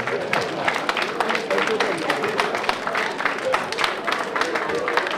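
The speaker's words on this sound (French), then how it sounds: "On les applaudit très fort." At a village patron saint festival on 15 August in Sainte Marie, an audience claps, an uneven run of hand claps and crowd noise heard at middle distance, with voices mixed in underneath.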